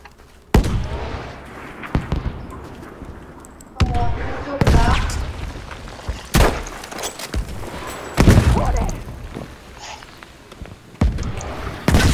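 Artillery and gunfire in the Battlefield V video game: heavy booms and sharp blasts burst out repeatedly at irregular intervals, with rumbling decays between them and voices talking over the combat.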